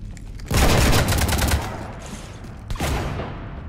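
Gunfire shooting at a ship in the video game Mass Effect 3: a loud burst of rapid automatic shots for about a second, then a brief pause and a second shorter volley with a booming edge.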